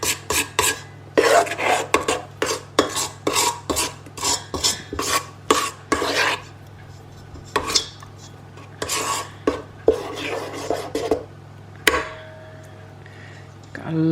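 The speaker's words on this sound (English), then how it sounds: "Just going to make sure that all the dried ingredients from the side is mixed in well." A whisk or spoon scrapes rhythmically around a bowl, working dry ingredients into banana and chocolate cake batter, with fast repeated rasping strokes, a few pauses, and a steady low hum underneath.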